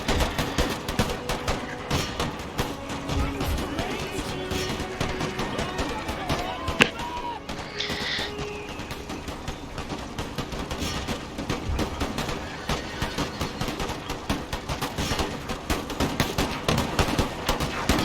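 Puckle guns fire in a battle in the video game Empire Total War, a steady clatter of overlapping gunshots and volleys running throughout with dense battlefield noise.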